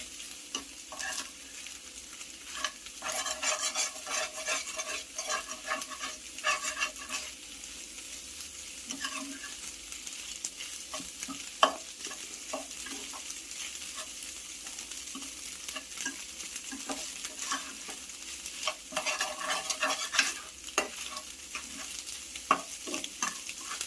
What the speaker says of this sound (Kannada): ಅದಕ್ಕೋಸ್ಕರ ಈ ಥರನೇ ತಿರುಗಿಸ್ತಾ ಇರಬೇಕು